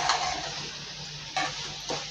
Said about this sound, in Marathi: आता आपण ह्याच्यात ही शेव टाकून पुन्हा ह्याच्यातून ह्या फोडणीत एकजीव करून व्यवस्थित भाजून घ्यायची आहे ही शेव